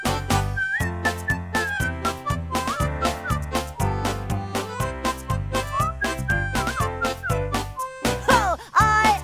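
A cartoon koala character whistles a cheerful, bouncy song melody over a backing of steady rhythmic accompaniment, the whistled notes clear and prominent throughout, ending in a quick flourish.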